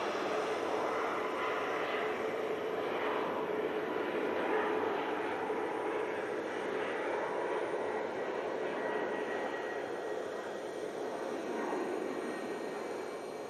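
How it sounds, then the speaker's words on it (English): An airliner rolls for takeoff at Manchester Airport on a foggy day, its engines a broad, steady distant roar that holds evenly throughout with no talk over it. "One's on the departure roll."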